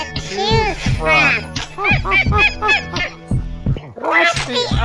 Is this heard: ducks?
yes